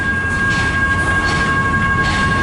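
CN 533, a northbound local freight train in Richmond, Michigan, rolls past close and loud as a steady, dense rumble with a faint ringing tone above it, running on without a break and with no talking.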